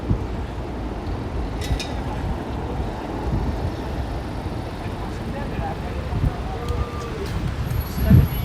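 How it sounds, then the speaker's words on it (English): A New York subway train rumbles past at a distance on a Williamsburg, Brooklyn street, a low continuous roar beneath steady outdoor city noise. "Oh, I hear the subway."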